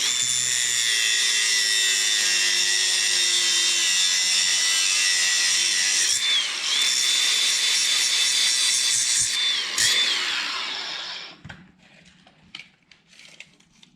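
A board is sawn across its top edge with a power saw, a loud, high, continuous buzzing cut lasting about eleven seconds with two brief dips in pitch, before stopping into quiet shop sounds.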